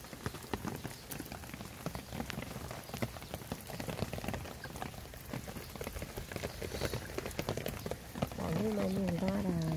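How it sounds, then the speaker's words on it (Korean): Rain patters steadily on a freshly seeded flower garden, a dense crackle of drops on soil and leaves close by, with a voice coming in briefly near the end. "꽃씨들 잘 크라고 비가 오는 거예요."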